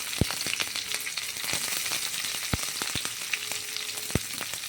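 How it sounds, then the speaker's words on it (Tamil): Steady, dense sizzling of chopped onion frying in oil, with occasional sharp pops and utensil clicks, close up and fairly loud, no voices. "வெங்காயம் வதங்கட்டும்"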